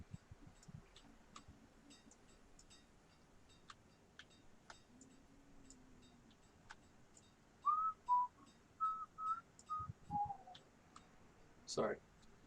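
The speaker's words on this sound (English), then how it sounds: "Sorry for whistling." A person whistles a melody in a string of clear, sustained notes during the second half, after scattered soft mouse-like clicks.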